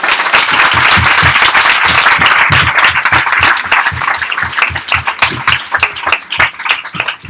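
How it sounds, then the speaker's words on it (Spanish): A large audience at a Spanish book event applauds steadily, dense clapping filling the room loudly and continuously, thinning slightly toward the end. "un aplauso para Letra Cosa."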